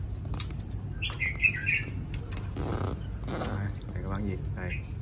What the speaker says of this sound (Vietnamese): Còn đây là con chòe than này